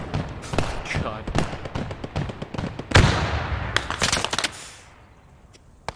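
Gunfire in the World War 2 squad game Post Scriptum comes as a dense string of sharp cracks and bangs, with a heavy blast at about three seconds that rumbles out. Voices talk over the firing.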